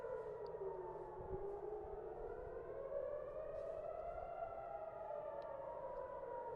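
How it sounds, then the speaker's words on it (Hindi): Air raid sirens in Tel Aviv, Israel, warning of an Iranian missile attack, wail continuously, their pitch slowly rising and falling as several overlap at a distance, with no voices. "टेल अवीव में हर तरफ से सायरन बज रही हैं,"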